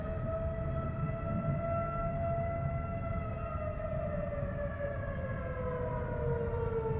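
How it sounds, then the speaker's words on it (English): Tornado warning sirens wail outdoors with a long sustained tone that slowly drops in pitch, distant and steady over constant low wind rumble, with no voices. "Oh, there go the sirens."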